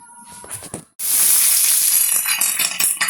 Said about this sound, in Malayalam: കറിവേപ്പിലിടാം.